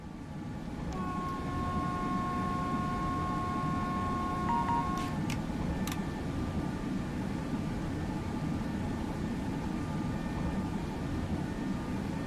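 A train rolls along in the SimRail railway simulator, producing a steady low rumble that holds throughout, with faint tonal whines and a couple of brief clicks early on.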